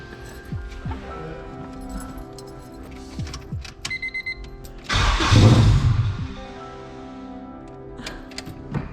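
A turbocharged Honda Civic cranks and fires up on a cold day, with clicking and whirring from the starter before a loud burst as the engine catches, then settles into a rough idle.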